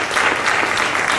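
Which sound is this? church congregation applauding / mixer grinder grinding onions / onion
church congregation applauding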